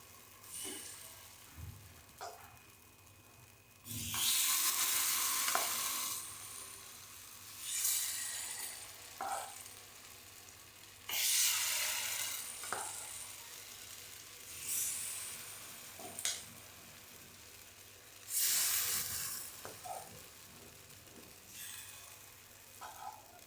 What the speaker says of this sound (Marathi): दोन ते तीन मिनिटं आप्पे भाजून घ्यायचे